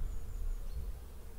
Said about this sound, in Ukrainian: бджола летить